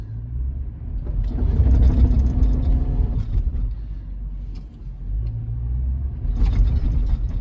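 Low, heavy engine rumble of a stuck truck revving up and easing off in two long surges, close and loud, with no talking.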